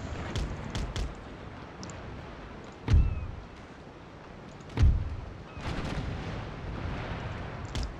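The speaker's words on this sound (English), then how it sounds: "this fifth rate is going to give a broadside here" Cannon broadsides from a fifth-rate warship in a naval battle video game boom out in two heavy, deep blasts a couple of seconds apart, with lighter cracks and rumbling battle noise around them.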